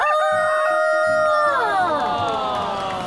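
A rooster crows once in a long, loud, drawn-out call with a clear harmonic voice that bends downward at the end, accompanied by a low underlying murmur.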